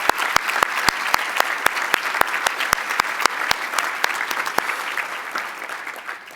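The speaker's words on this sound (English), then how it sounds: "Let's give a round of applause for our signature sponsors" A livestreamed charity event audience gives a steady round of applause for the signature sponsors, with sharp individual claps standing out over the dense, sustained clapping throughout.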